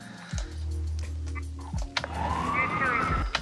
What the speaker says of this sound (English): One is the police sirens and the radio communication.